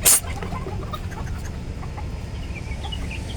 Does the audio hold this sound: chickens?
yes